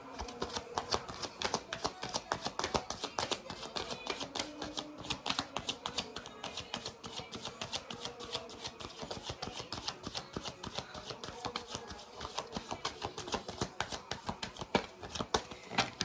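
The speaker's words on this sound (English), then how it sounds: "But let me pull some more cards because these are the first two that I'm pulling right now." Tarot cards being shuffled and pulled from the deck, a dense, continuous run of quick papery flicks and riffles lasting throughout with no talking.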